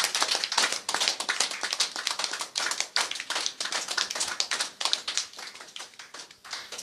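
A church congregation claps in joyful acclamation of the Lord during a service, a steady, dense rhythmic clapping that fills the space from start to finish with no voices.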